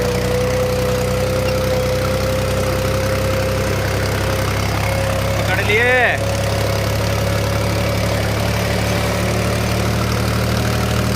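A new tractor hauling a 10-ton load up a steep climb labours at low RPM in third gear, its deep, steady engine drone running under a voice.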